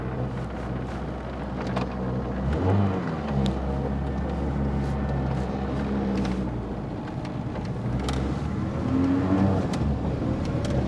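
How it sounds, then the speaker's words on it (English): A Citroën Visa GTi with a cold 1.9 engine pulls away on a test drive, heard from inside as a steady mid-level drone with a couple of short rising revs. "Straight away with the cold engine, I can feel that low down torque that this engine got."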